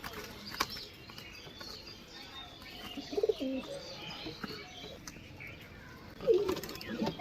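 Murshidabadi Giribaz pigeons cooing in a loft, soft low coos and faint chirps in short bursts over quiet background noise, with a few distant voices.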